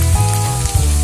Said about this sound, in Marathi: थोडा परतून घेऊया आपण।